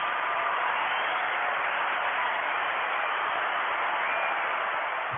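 An audience applauds after an interview, giving a dense, continuous wash of clapping at a steady level throughout.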